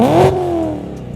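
A BMW M3 with its catalytic converters deleted and lowered suspension gives one sharp, loud rev, the engine note climbing quickly and then falling away into a lingering, rumbling decay.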